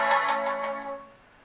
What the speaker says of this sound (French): Encore le téléphone, désolé.